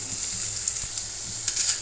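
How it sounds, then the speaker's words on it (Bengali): Onion, green chili and garlic fry together in a pan with a steady, fairly quiet sizzle, with soft crackles and small pops over a constant hiss. "এখন দিয়ে দেব কাঁচামরিচ, পেঁয়াজ আর রসুন। এটা আমরা একসঙ্গে ভেজে নেব।"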